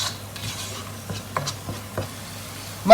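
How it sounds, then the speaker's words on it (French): A spoon stirs crab curry in a cooking pot, producing soft scattered scrapes and light knocks over a faint hum, with a sharper clink at the end. "je mélange le tout, je mélange bien l'ensemble"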